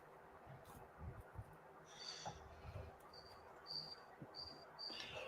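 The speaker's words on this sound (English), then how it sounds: "if you think our crickets are loud" Faint, quiet crickets chirp in short repeated bursts against a low night-time background hum, with occasional soft rustles.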